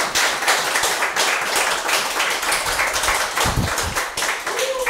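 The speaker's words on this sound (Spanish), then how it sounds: "Un aplauso para doña Zulay" A television talk-show audience gives a guest a sustained round of applause, with dense, continuous clapping from a group of people throughout and some low rumbling beneath.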